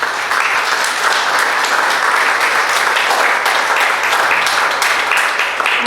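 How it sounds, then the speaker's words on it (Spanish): A seated audience at a talk breaks into loud, sustained applause. Dense clapping fills the room evenly for several seconds, close and continuous. "que te aplaudan por estar viva"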